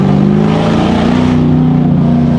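A New Edge Mustang's 4.6 liter V8 revs loud and close among trees, a deep throaty roar that holds steady then eases slightly, with no talking.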